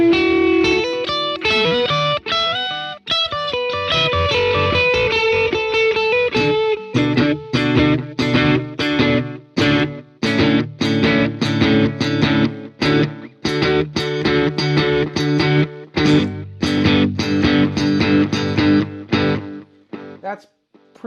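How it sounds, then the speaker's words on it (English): An electric guitar plays through a Blank Electronics Reaching ambient delay pedal with distortion, notes echoing and smearing into a gritty ambient wash over a steady picked rhythm. "Adds a level of distortion to the delay that not too many delay units out there can do"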